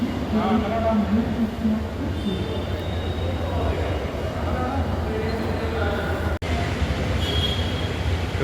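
Kochi Metro train rumbling at a station with metallic squeals and hums, people talking nearby over the steady noise.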